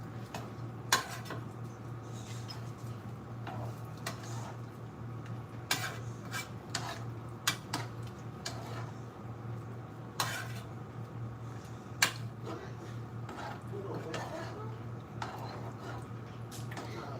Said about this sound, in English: I'm gonna stir this in. Get that curry up together.